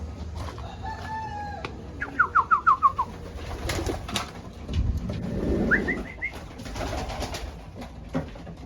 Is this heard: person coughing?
no